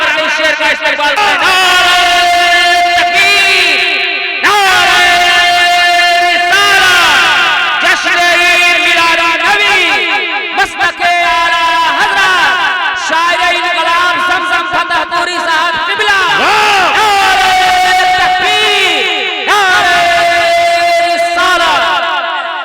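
A large crowd at a religious naat gathering chants the takbir slogan in unison, loud, close and sustained, with repeated rising shouted phrases and brief pauses between calls.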